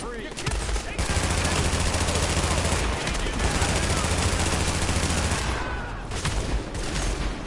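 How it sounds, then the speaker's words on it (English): Continuous, loud automatic gunfire in the shooter game The Division. Sustained bursts rattle with only brief gaps, over a low droning game background. "Shots fired!"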